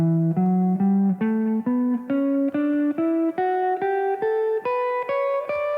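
Guitar notes climb a major scale step by step in an even rhythm, about fourteen single plucked tones ascending, clear and close.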